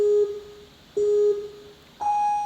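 Three electronic countdown beeps sound roughly a second apart, each a clear steady tone, the first two matching in pitch and the last one higher, signalling the obstacle timer resuming on a competition course.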